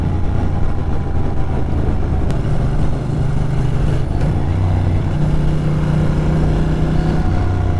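A Ducati Monster 620ie motorcycle engine runs loud and steady, its low exhaust note rising and falling in pitch as the revs climb and settle, with no talk over it.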